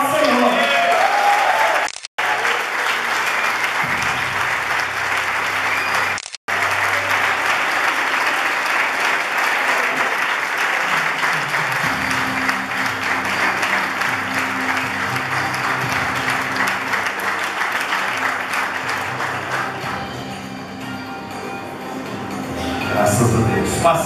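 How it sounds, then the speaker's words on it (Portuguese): A church congregation claps loudly and continuously after a children's Christmas play, with a long, full round of applause interrupted by two short cuts and a hum of voices and music rising beneath it. "As palmas louvem ao Senhor"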